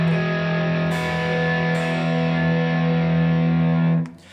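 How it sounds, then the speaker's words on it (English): Electric guitar through an emulated Fuzz Face fuzz pedal, a sustained, thick fuzzy chord ringing loud and steady for about four seconds before cutting off abruptly, with no one speaking. "Okay, so this has an emulation of a fuzz face."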